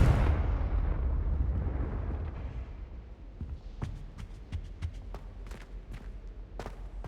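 A Confringo fire spell bursts in the Hogwarts Legacy video game, a loud booming explosion that rumbles and fades over several seconds, followed by a quick run of sharp crackling pops.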